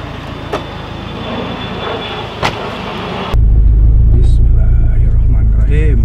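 Honda Civic Estilo driving, heard from inside the cabin: a steady low engine and road rumble that jumps louder partway through as the car pulls away, with a few brief knocks and faint voices in the background.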